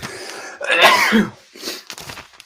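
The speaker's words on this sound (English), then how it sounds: "Got to sneeze, trying to fight it off." One loud, close, stifled sneeze erupts in a single harsh burst, then trails off into a few quieter breathy sputters and throaty noises.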